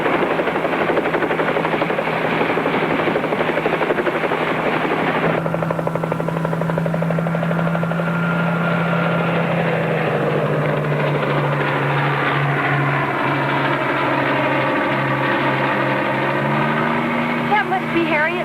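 A helicopter near a ranch swimming pool gives a loud, continuous rotor drone with a shifting engine pitch that holds throughout, with no talk over it.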